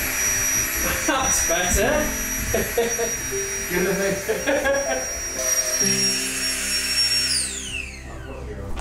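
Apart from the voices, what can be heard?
Flextail electric pump inflating a sleeping mat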